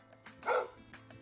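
A single dog barks near a house in a Mexican border town, one short, moderately close bark over a low hum of background noise.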